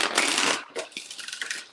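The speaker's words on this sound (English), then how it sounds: "I will just shuffle the cards" Tarot cards being shuffled by hand, a close, crisp riffle of rapid papery flutters followed by shorter bursts of card-on-card slaps and ruffling.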